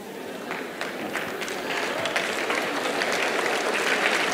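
Sustained audience applause from a crowd of students at a college interaction event, a dense wash of clapping that builds slightly and holds steady throughout.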